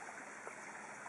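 Pond water running steadily through a hydroponics koi pond filter, a constant close stream-like rush with no talk.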